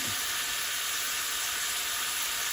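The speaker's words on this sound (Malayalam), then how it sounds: "ഇത് നല്ലോണം ഒന്ന് വഴറ്റുക" Steady sizzling of spices being sautéed in a pan for parippu lentil curry, a continuous bright hiss with a brief stir at the start, no talking.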